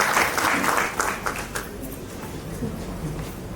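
Audience applause at an award ceremony in Solapur, dense and loud at first, then thinning and fading over the following seconds.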